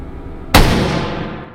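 A single loud shot from a bolt-action WWI American infantry rifle in a VR game, a sharp crack followed by a long decaying boom, with no talk over it.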